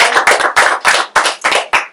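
Applause for a salon helper at a balayage hair event: a small group clapping in uneven bursts, fairly close and moderately loud, with brief pauses between the clusters of claps.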